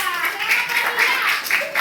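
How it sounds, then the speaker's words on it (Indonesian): A classroom of students claps for a group, a short burst of quick, close clapping with children's voices mixed in. "Tepuk tangan buat kelompok 2"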